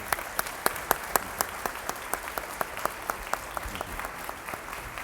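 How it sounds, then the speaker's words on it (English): Audience applause for panelists at an innovations conference session, a moderate steady patter of many hands with a few sharper claps standing out regularly, continuing evenly for several seconds. "Would you please give our panelists a round of applause for their great presentation?"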